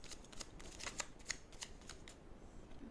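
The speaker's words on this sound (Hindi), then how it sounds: "चलिए एक और टैरो कार्ड्स मैं लूँगी यहाँ पे, क्या हो सकता है नियर फ्यूचर में।" Tarot cards being shuffled by hand, a rapid run of crisp flicking riffles close and fairly soft, with no talking.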